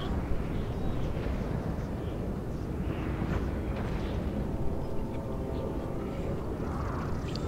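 Artillery fire in a Napoleon: Total War battle at Ligny, a steady, dense roar of distant cannon booms and battlefield rumble running continuously throughout.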